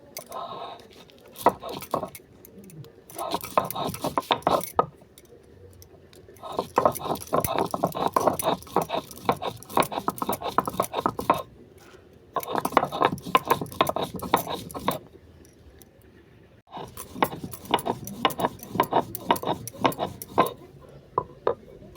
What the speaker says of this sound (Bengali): লঙ্কাটাকে আমি কুটে নেবো কুটে নিয়ে সর্ষের সঙ্গে গুঁড়ো করে নেবো